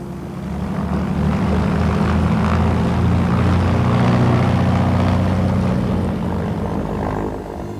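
A propeller-driven parachute aircraft departing Headcorn, bound for a 10,000-foot drop, gives a loud, steady engine drone that swells and fades slightly as it passes.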